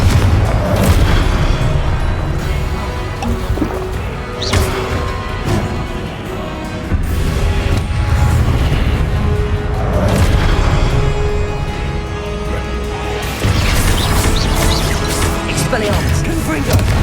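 Repeated Confringo explosive spell blasts from Hogwarts Legacy, several booming impacts spread across the stretch amid ongoing combat noise, with a voice shouting spell names over them.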